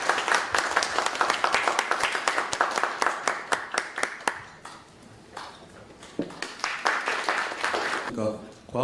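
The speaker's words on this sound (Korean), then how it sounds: "큰 박수로 맞이해 주시죠." An audience at a tenth-anniversary electromagnetic safety forum greets the opening speaker with a round of applause: dense, steady clapping that thins briefly partway through, then swells again before fading.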